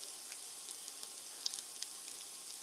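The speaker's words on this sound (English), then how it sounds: "I'm just going to saute them in some some olive oil." Food sautéing in olive oil in a small mini cast iron pan, a steady close hiss and sizzle with scattered light pops and crackles, no voices.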